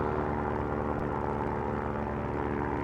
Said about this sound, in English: This plane's not running on any operating lights.